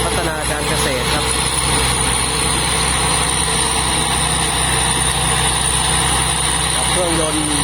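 A large rice combine harvester with a JO8C 260 turbo engine runs in a field in Thailand, giving a loud, continuous droning roar with a steady whine on top, and someone talks over it throughout.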